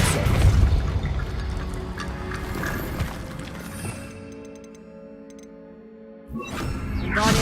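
Depulso force-push spell effect in the video game Hogwarts Legacy, cast inside a tomb: a loud low rumbling whoosh with mechanical clatter, easing into a quieter resonant tail before another burst of noise at the end.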